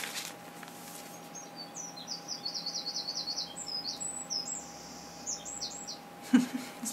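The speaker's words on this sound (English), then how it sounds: "I hope you can hear that bird" A small bird chirps in quick bursts of high, bright notes, fairly distant, over a steady low hum with no talking.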